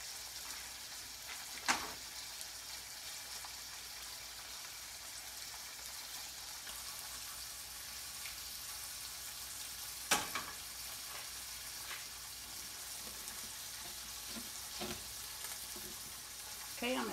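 Peppers and vegetables sauté in melted butter, a soft, even sizzle running throughout with a few sharp clinks of a utensil on the pan.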